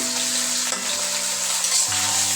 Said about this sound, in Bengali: এরকম ভাবে টমেটো কাঁচামরিচ আমি একটু আগে নেড়ে ফেলে নিচ্ছি।